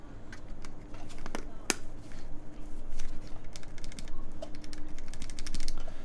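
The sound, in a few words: typing on mechanical keyboard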